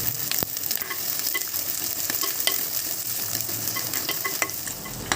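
Carrot and shallots sauté in a pan while being stirred for a Kerala biryani, a loud constant sizzle broken by frequent spoon scrapes and clicks against the pan, with no talking.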